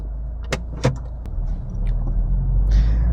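A 2023 Subaru WRX sits close up with a steady low engine hum, a couple of sharp clicks and a door or window sound early on. The rumble then swells gently as the car starts to move off.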